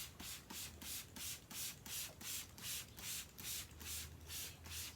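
A handheld spray bottle mists water over a flocked Christmas tree, a steady run of about a dozen short, soft hissing bursts in an even rhythm, close and moderately loud with no talking.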